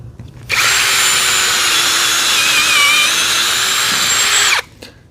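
A power drill spins a 3-inch bulb auger into soil to bore a tomato planting hole: one loud, steady whirring burst of about four seconds that starts and stops abruptly, with quiet before and after.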